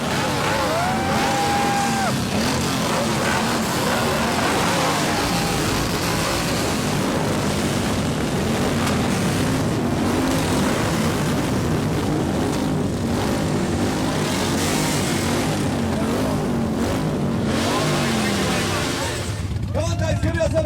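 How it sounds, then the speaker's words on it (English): Many motorcycle engines rev together at a crowded rally, making a dense, steady roar that lasts throughout. Voices shout over the din. "she called out to all the bikers to start their engines and rev up all their bikes"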